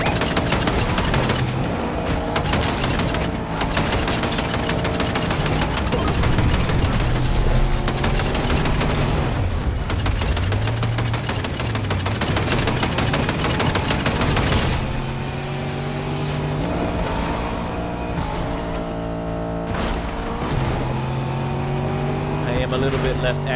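Machine gun fire rattles in a Fortnite duos match on Xbox Series X, dense bursts of shots mixed with game engine noise, with people talking over it.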